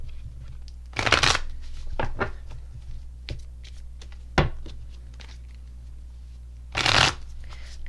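Everyday Witches Tarot cards being shuffled by hand, a few quick riffling bursts separated by quieter handling and single card taps, close and crisp with no talking.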